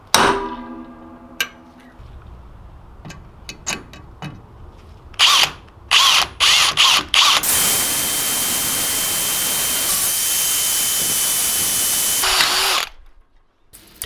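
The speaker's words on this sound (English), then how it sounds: "So just like you did before you drill into the bolt" A power drill whirs in several short bursts, then runs in one long continuous grind into a broken bolt in a deep hole before stopping abruptly; close and loud, with a few clanks between bursts.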